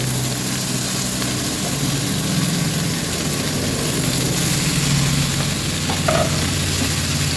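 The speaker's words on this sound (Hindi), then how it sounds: "अब इसमें मैं ये डाल दूँगी, ये इकट्ठी सब्जियाँ डाल दूँगी मैं।" Mixed vegetables tumble into a hot, sizzling pan while macaroni is being cooked, producing a loud, steady frying hiss with faint stirring and scraping throughout.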